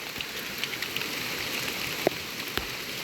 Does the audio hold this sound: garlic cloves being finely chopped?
no